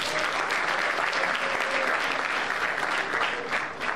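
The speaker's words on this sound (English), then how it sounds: "Can we please have another round of applause?" An audience applauding after a debate, a full, sustained round of clapping that stays loud and even throughout, with no break.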